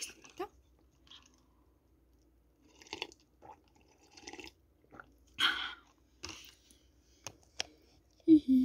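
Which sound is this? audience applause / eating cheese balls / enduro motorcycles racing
eating cheese balls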